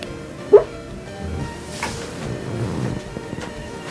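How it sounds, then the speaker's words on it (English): A pet dog barks in her sleep indoors, giving one sharp, short bark early on, then faint whimpers and muffled yips under a steady background hum. "Sorry, the dog's barking here."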